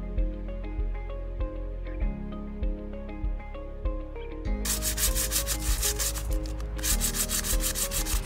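An old painted metal bench is hand-sanded smooth before refinishing: steady, close rubbing strokes repeat throughout and grow denser and louder in the second half.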